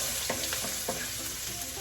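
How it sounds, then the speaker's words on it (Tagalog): Garlic frying in a pan, a soft continuous sizzle with a few light scrapes of stirring, close by and fairly quiet. "So, unahin ko pong lutuin ay ang bawang."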